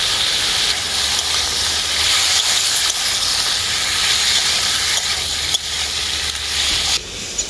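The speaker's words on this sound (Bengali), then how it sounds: "সেদ্ধ করা লাউগুলোকে আমি একসাথে হালকা করে ভেজে নেব" Boiled bottle gourd being lightly fried with a little turmeric gives off a loud, steady sizzle and hiss, close up and continuous, with occasional faint stirring bumps.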